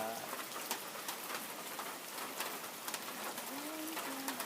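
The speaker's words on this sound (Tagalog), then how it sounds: "Kasi nga umuulan." Steady rain patters on a surface around a meeting shed during a downpour, a dense continuous hiss with scattered drop ticks, while pigeons or doves coo faintly in the background.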